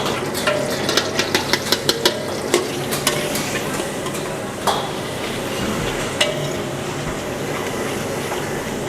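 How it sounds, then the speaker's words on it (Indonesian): Garlic stir-fries in a hot pan with a continuous sizzle, broken by a quick run of sharp spatula scrapes and taps early on and a few more knocks later, with no talking. "Langsung aja kita bakal mulai dari numis si bawang putih terlebih dahulu"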